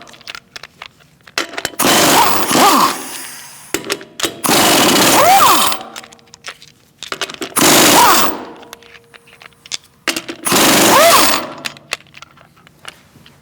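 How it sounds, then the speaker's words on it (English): An impact gun removes the lug nuts from a 2016-2019 Chevrolet Cruze front wheel in four loud, close rattling bursts of about two seconds each, separated by quieter pauses with small clicks and handling noise. "Now we're going to remove our lug nuts."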